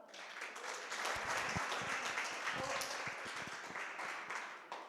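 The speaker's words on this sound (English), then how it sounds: "A big round of applause for Flora." Audience applause at a conference talk in Italy, a steady sustained wash of clapping from a crowd that holds level for several seconds before easing off.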